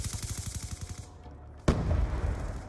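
Gunfire in Call of Duty Black Ops 2 during a Domination match comes as a rapid automatic burst of evenly spaced shots, followed after a brief pause by a single sharp blast and a noisy rumbling tail.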